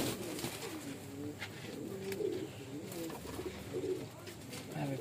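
Fancy breeder pigeons, a golden pigeon among them, coo softly in a pigeon loft, with a low steady murmur of calls and some faint background noise throughout.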